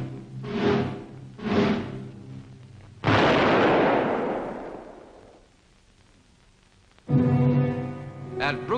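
A firing squad's rifle volley at the execution of German spies erupts as one sharp, loud blast that rumbles away over a couple of seconds, set between heavier low booms and followed by a fresh burst of noise.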